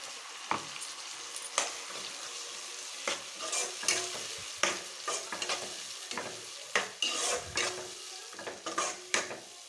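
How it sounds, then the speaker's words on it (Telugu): Ginger garlic paste and tomato puree fry and sizzle in a pan for egg biryani while a spoon stirs them, with repeated scraping strokes and soft clanks over a steady close hiss. "కొంచెం పచ్చి వాసన వేయంత వరకు వేయించుకోవాలి"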